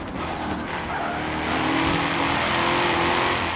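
A muscle car, Chevy or Ford, drifts in a racing game, its tires squealing in a sustained skid while the engine roars and revs loudly up close, with no talking.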